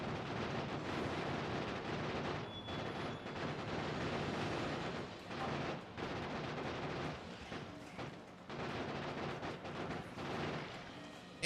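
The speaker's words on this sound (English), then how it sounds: "we're just still just randomly lobbing grenades out of our window" Grenades going off in Factorio, thrown from inside a building in the Space Age expansion: a dense, continuous run of rumbling blasts and crackling gunfire-like bursts, steady and loud throughout with brief lulls.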